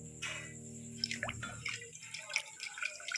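Plum and tamarind sherbet strained through a grinder's strainer, the liquid dripping and trickling in soft, wet patters over a low steady hum, with no talking.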